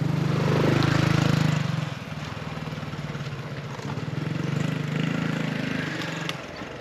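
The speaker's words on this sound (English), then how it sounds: "The motorcycle, let's let him pass." A motorcycle engine hums at moderate distance along a canal path in Bangkok, droning steadily as it passes, its buzz swelling and easing over several seconds beneath outdoor ambience.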